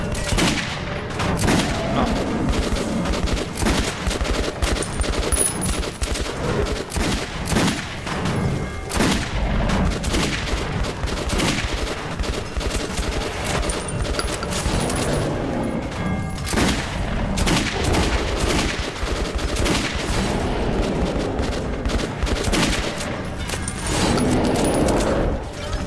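Rapid bursts of gunfire and booms in the video game Metro 2033 Redux repeat for the whole stretch, dense and loud, with occasional talk mixed in underneath.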